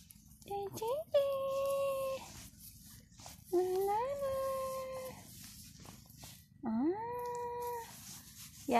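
A cat meows three times close by, long drawn-out wailing calls with rising pitch, separated by short pauses, over faint background noise.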